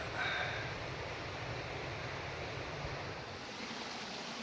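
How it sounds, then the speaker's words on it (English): A distant waterfall high on a slope in North Cascades National Park gives a steady, broadband rushing wash that holds even and continuous throughout, with no voices over it. "Oh, and there's a waterfall up there."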